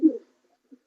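A single short, close racing pigeon coo, low and throaty, followed by a faint brief second murmur, otherwise quiet.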